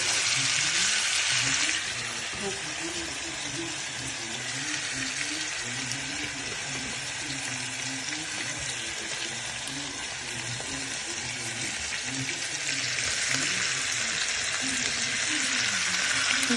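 Veal pieces frying in a pan of hot vegetable oil for a Moroccan tagine, giving a steady, loud sizzle with spatter that fills the whole stretch, a faint voice now and then beneath it.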